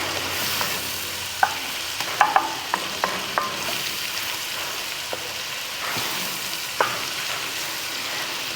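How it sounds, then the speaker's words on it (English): Onions sweat and fry in a pot being glazed for a smoked chateaubriand, giving a soft, continuous sizzle broken by scattered light clicks and scrapes of stirring. "for a nice low onion sweat so we get all that flavor out of there"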